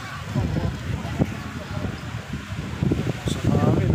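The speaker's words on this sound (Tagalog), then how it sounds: "Oh, lakas ang hangin!" Strong gusty wind from an approaching typhoon buffets the microphone outdoors in Tamsui, a steady loud roar and rumble under a person talking throughout.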